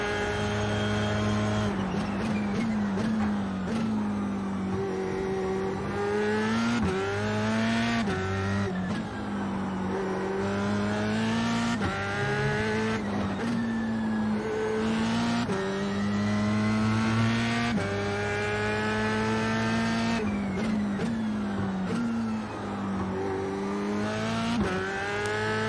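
A race car in a racing video game drives hard, its engine climbing through the revs and dropping at each gear change over and over, loud and close the whole time.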